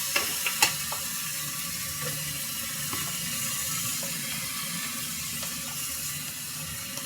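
Spices fry in a pan with shrimp, potato and okra, a soft, steady sizzle with a few sharp pops near the start and faint scattered crackles afterward.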